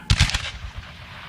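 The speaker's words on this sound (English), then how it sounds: "That would have been a volley." A musket volley from Civil War reenactors at Appomattox, heard as a close, loud ragged crackle of several shots within about a third of a second, then fading echoes and quiet.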